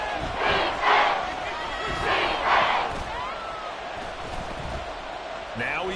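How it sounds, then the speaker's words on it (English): Crowd roar fills a domed stadium during an NFL football game between the Bears and the New Orleans Saints, surging in waves near a goal-line play, with a commentator talking over it. "The crowd here in the dome making things difficult"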